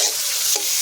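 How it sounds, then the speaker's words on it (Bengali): Chicken pieces frying directly in a little oil for chicken chow mein, stirred in the pan, giving a brief steady sizzle with a stirring scrape, close and fairly loud, with no voices. "এটা তেলের ওপর ডাইরেক্ট আমরা ভাজছি যেহেতু"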